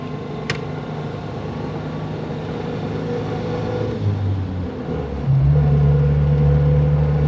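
A vintage Lanchester LD10 car with a preselector gearbox labours up a hill, its engine droning in a low, rising strain that shifts and deepens near the end, loud and close from inside.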